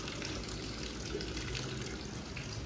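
Cold tap water runs in a steady, continuous gush close by while hair is washed, with no talk over it.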